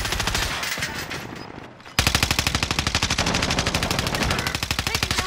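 Rapid automatic gunfire rattles through a battle-royale video game match, loud and close, with a short burst, a brief lull, then a sustained rhythmic stream of shots.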